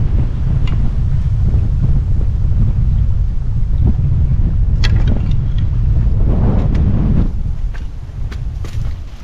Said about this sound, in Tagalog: Sobrang hangin lang dito.